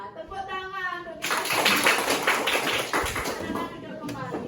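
Children clapping for classmates in an Indonesian classroom, a burst of dense, bright applause starting after a teacher speaks and continuing loudly to the end.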